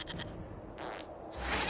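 A goat bleats in the fantasy role-playing game Dragon Age: Inquisition, a couple of short wavering calls, fairly faint and set against quiet game ambience.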